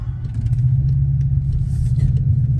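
BMW X5 with a lightning exhaust idling as it pulls up to a muffler shop, a steady deep low rumble with slight revving, close and loud throughout.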